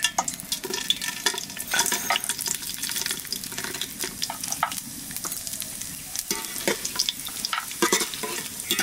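Whole spices sizzle in hot oil with a continuous crackling hiss and scattered sharp pops, with some stirring or water-like sounds mixed in, close and moderately quiet.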